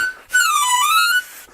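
A harmonica stands in for a coach's whistle, sounding one sustained bright reedy tone for about a second that dips slightly in pitch and rises again, loud and close, with no talk.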